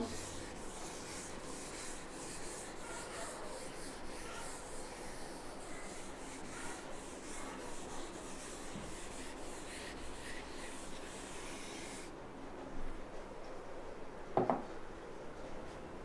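Steady rubbing and scraping of an eraser or duster across a classroom board during a maths lesson, continuous and fairly close for about twelve seconds, then quieter with a brief knock near the end.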